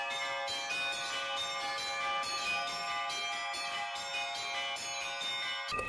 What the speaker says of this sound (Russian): И взрослые, и дети смогли позвонить в колокола, поучиться разным видам перезвона.